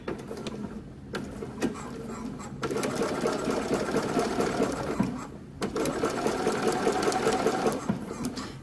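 A sewing machine runs close by, stitching a seam for a summer dress in two long bursts of fast, even mechanical clatter, separated by brief pauses, with no talking.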